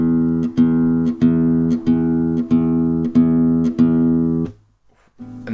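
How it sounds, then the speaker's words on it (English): A fingerstyle blues guitar in E plays steady, evenly spaced low bass notes with the thumb on each beat, with ringing upper tones, then stops briefly before resuming. "The bass notes that are played with the thumb in a fingerstyle guitar"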